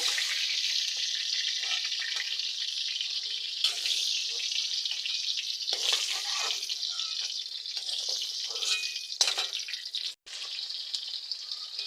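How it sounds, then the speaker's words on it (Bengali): Potatoes crackle and sizzle continuously in hot oil as they fry until red-brown, with occasional clinks and scrapes from stirring near the pan. "এবার সব কটা আলু তেলের মধ্যে দিয়ে লাল লাল করে ভেজে নেব"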